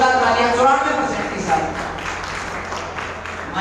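Loud applause fills a school award ceremony at Tagore School in Taranagar, a dense steady wash of clapping from a crowd that runs the whole time, with a voice speaking over the start.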